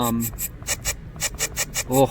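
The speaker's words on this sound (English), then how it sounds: "I reversed it and I got this sound. That almost sounds up here like a drill shaker, or like a drill" A reversed kitchen sample used as a drill-style shaker in a GarageBand beat gives repeated short raspy scraping bursts in a quick, uneven rhythm, loud and close, with brief tonal hits at the start and end.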